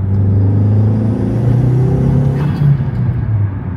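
Steady low rumble of a Volkswagen MK4 engine on a test drive after a fuse box repair, droning evenly and close, with a slight swell partway through and no talking.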